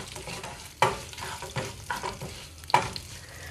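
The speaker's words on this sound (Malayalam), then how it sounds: "ഇനിയും ഈ കടുക ഒന്ന് പൊട്ടണം" Mustard seeds and urad dal frying in coconut oil for a Kerala-style tempering, with a steady soft crackle and two sharper pops from seeds bursting in the hot pan, no voices.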